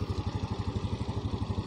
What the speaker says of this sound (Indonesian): Suara mesinnya kita dengarkan. Halus banget ya guys ya.